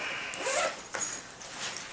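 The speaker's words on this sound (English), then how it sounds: "this one's got double zippers on it" Double zippers sliding on a Mossberg ASAP survival backpack, a few brief rasping pulls close by with short pauses between them.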